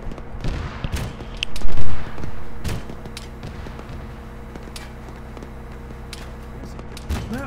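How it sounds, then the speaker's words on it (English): Scattered enemy gunfire in Arma 3, irregular sharp cracks and thuds of varying distance over a constant low battlefield rumble, with one heavier burst standing out. "They're all personally shooting at me."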